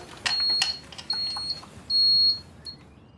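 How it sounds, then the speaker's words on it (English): A fire alarm in a room-by-room rental property gives several short, shrill electronic beeps at uneven intervals, fairly faint against a quiet room with small clicks between them. "Jared's here to reset the fire alarm"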